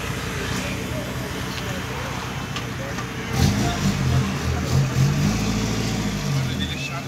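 Ford Escort engine revving at a car meet with a crowd around, a low throaty rev swelling about halfway through and holding with uneven pulses under ongoing chatter from nearby people.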